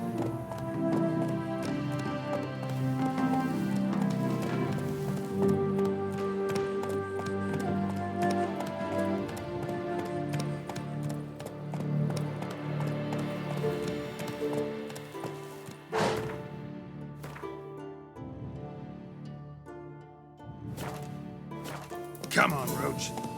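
Roach, the horse in The Witcher 3, galloping with rhythmic hoofbeats running steadily beneath loud orchestral music, the hooves partly masked by the score.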